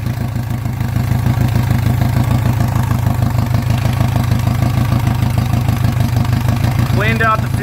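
A Yamaha 115hp outboard engine running rough after fuel injector cleaning, a loud, steady, pulsing idle with a rapid uneven clatter throughout and a brief voice near the end.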